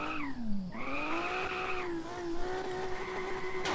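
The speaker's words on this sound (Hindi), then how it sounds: "यार ये गाड़ी ना स्पिन हो जा रही बहुत" A car in the video game Car for Sale Simulator 2023 spins out, its engine whining and dipping in pitch while tires skid and squeal loudly and continuously up close.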